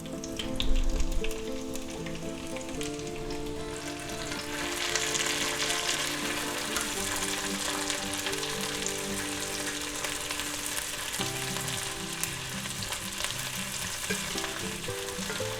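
Sliced and diced onion, about half a medium onion, sizzles in a hot pan alongside ribeye steak preparation, a dense steady crackle with a louder burst at the start and faint utensil tones running underneath.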